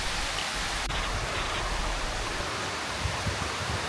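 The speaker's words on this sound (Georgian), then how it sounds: "მართალია კარგა მაგრა წვიმს" Heavy rain pours down in a steady, dense hiss throughout, close and even, with no voices, outdoors in Georgia during a thunderstorm.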